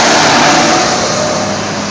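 A brand-new Israeli fire truck engine revs steadily and loudly up close, a continuous broadband roar that holds constant before easing slightly toward the end, with no talking.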